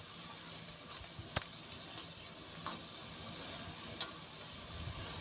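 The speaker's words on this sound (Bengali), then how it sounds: "আমি ভেজে নিই, কড়া করে এগুলো ভেজে নিই।" Fish heads fry with garlic, chili and ginger in hot oil, a steady bright sizzle with a few brief stirring clinks and spatters; no talking.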